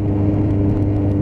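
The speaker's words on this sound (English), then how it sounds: "you can hear the pops and crackles from that can" A Suzuki Bandit 1250cc motorcycle engine idles and burbles steadily, its exhaust can giving off a low, rumbling crackle with pops close to the microphone.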